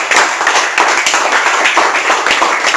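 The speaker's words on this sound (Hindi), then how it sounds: "एक बार ताली मार दो दोस्तों।" Steady, dense hand clapping from a small group, loud and close, forming continuous applause with no talk over it, celebrating in an electronics repair workshop.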